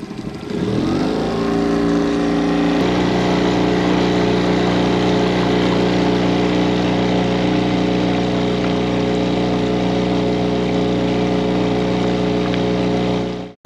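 A sailboat's engine revs up from idle into a loud, steady drone that holds for several seconds before cutting off abruptly.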